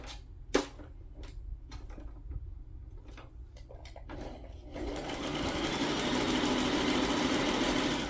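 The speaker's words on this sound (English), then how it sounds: "I'm gonna sew around this one." A sewing machine stitches around a metal eyelet on a paper ephemera holder tag, starting with a few short separate bursts and then settling into a steady continuous whir for the last few seconds.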